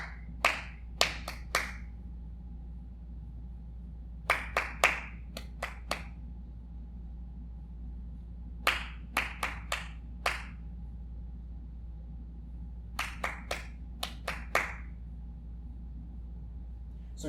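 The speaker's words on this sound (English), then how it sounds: "I'm going to clap a rhythm for you to repeat" Hands clap short rhythmic patterns, groups of about five crisp claps repeated four times with pauses between, close and clear over a quiet room hum.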